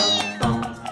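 A domestic cat gives a drawn-out meow that slides down, then a second shorter meow follows, close and clear without any talk.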